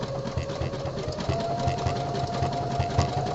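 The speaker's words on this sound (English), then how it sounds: "I just have a little bit better control with the sewing machine than the serger cover stitch" Home sewing machine stitching the body panel of a pair of boxer briefs, a steady rapid mechanical chatter of the needle running continuously and close, with a faint motor whine beneath.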